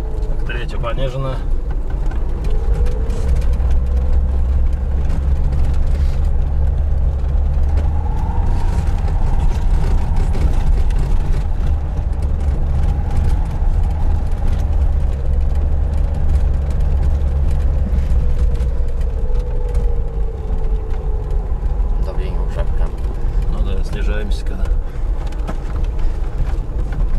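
A Lada Niva climbs a hill in low gear, its engine droning loud and steady throughout with a rising and falling pitch as the load shifts, cabin rumble and occasional rattles mixed in.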